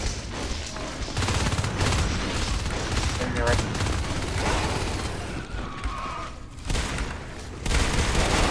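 Pistol and other weapon fire in the sci-fi shooter Natural Selection 2, dense overlapping shots in a busy firefight, loud and continuous, under a commentator's voice.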